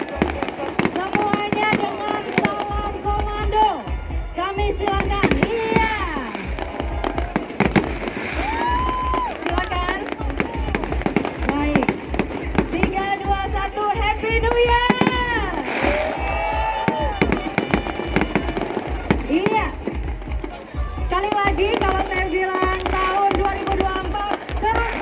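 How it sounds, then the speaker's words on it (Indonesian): New Year 2024 fireworks at Alun Alun Engku Putri in Batam bang and crackle in rapid bursts, with people talking and calling out over the explosions throughout. "latar belakangnya kembang api"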